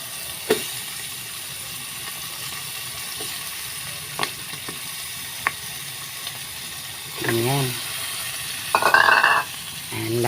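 Shrimp frying in a pan with tomato: a soft steady sizzle underneath, broken by a few sharp utensil clicks and brief stirring scrapes, with louder bursts of frying noise near the end.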